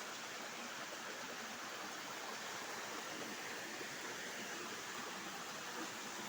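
Water pouring over a small waterfall in a canal, a steady, dense rushing roar that runs unbroken throughout, moderately close with no talk.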